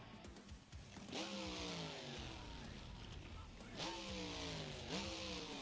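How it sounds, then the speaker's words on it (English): Engine of a truck in a racing video game with a Magnaflow exhaust, revving up in three sharp bursts with rising harmonics, loud and close, separated by a steady rumbling idle. "We got Magnaflow sounds."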